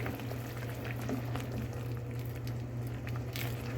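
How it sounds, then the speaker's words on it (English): Continuous bubbling and low simmering of a thick coconut mixture for coconut drops boiling in a pot, steady and fairly quiet, with a faint background hum. "The coconut take a long time to boil."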